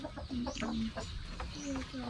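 Chickens cluck softly nearby in short, repeated calls against a faint background of low murmuring.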